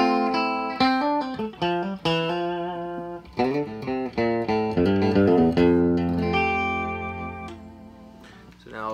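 Bright, twangy notes and quick picked phrases come from a Regent electric guitar on its bridge pickup, played close and clear with a long ringing chord at the end.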